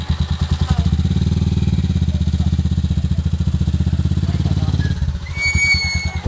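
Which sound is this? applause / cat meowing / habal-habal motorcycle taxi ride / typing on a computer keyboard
habal-habal motorcycle taxi ride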